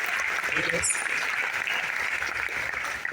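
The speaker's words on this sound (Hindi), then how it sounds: "इनके लिए जोरदार तालियां पहले बजाइए" Listeners at a business plan seminar clap for first-time guests, a soft, steady spread of applause that sounds somewhat distant and muffled, with a murmur of voices mixed in.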